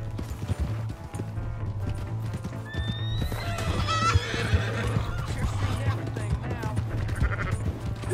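A horse in the Red Dead Redemption 2 video game neighs and whinnies over clip-clopping hooves, mixed with steady game background noise and characters talking.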